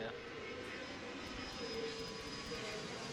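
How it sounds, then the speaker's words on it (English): An airplane flying past near an airport makes a steady, faint jet engine roar that holds for several seconds against low background noise. "Along with the plane flying past and all the airport audio."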